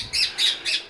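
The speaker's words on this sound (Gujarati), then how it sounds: "અત્યારે તો સવારમાં પોરમાં પોપટ આવી ગયા." Parrots squawk on a morning visit, three sharp, close, shrill calls in quick succession, heard alone.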